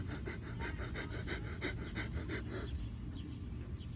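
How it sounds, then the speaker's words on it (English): Rapid, rhythmic breath-of-fire yoga breathing: about a dozen quick, forceful exhalation pulses in steady succession, close and fairly loud, that stop after a few seconds and give way to quiet. "Breath of fire."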